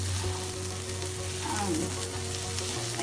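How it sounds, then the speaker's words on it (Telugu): Ivy gourd (dondakaya) pieces fry in hot oil in a pan and are stirred, giving a dense, continuous sizzle with soft scraping and stirring noises close by. "కలిపి ఫ్రై అయ్యింది చూసేద్దాం."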